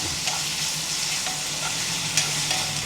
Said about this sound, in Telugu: మంచిగా కలిపి వేగనివ్వాలి,